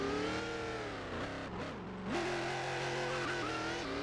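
A Prancep RS2 sports car in the Roblox game Driving Empire revs and drives, its engine whine holding steady, dipping and then climbing again with a brief tire squeal in between.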